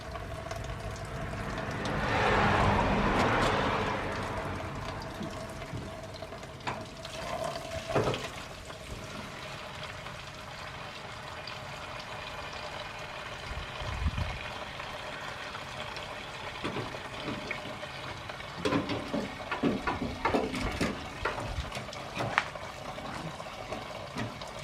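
Fuel drains from the tank of a Ford Capri into a bucket with a steady liquid pouring and splashing sound, fairly close, followed by quieter trickling and scattered clanks.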